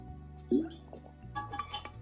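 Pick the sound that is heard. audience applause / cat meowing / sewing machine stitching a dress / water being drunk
water being drunk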